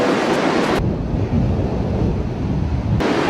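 Sea waves wash steadily on the shore while strong wind buffets the microphone, a continuous close roar with no voices.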